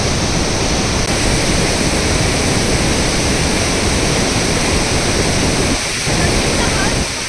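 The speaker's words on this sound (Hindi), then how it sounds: "just listen the natural sounds of this waterfall" Waterfall in Munnar, Kerala, a loud, dense, continuous roar of falling water close by, broad and unbroken, with a brief dip near the end.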